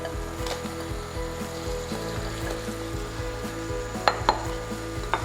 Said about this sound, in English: And just gently let's stir fry this.